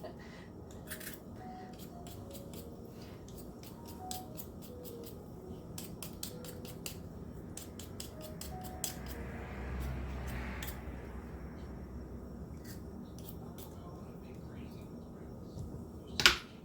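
Potatoes being peeled with a hand peeler make repeated quick scraping strokes in irregular bursts, close and fairly faint, with a person talking at times and a sharper clack near the end.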